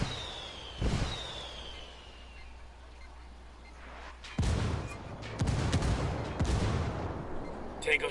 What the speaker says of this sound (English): I called the rebels for some indirect fire.